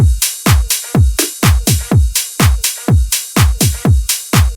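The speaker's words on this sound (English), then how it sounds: "Together the drums sound like this." Layered tech house drum loop playing alone and loud, with a steady four-on-the-floor kick driving a regular pulse, overlaid by rides, hi-hats and claps in a tight repeating groove.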